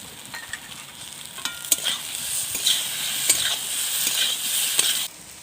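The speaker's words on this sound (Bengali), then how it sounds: "এবার ভালো করে কষে নেব।" Potol and shrimp curry masala is stirred and fried in a pan with a continuous bright sizzle, a utensil scraping and tapping against the pan in an uneven rhythm, steady and close.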